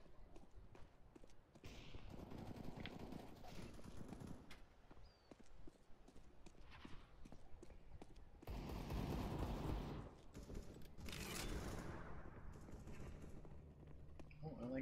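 Gunfire in Counter-Strike: Global Offensive, heard as scattered bursts of sharp shots, some in rapid strings, over quiet game ambience with a louder stretch of firing partway through.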